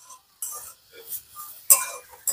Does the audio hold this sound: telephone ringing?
no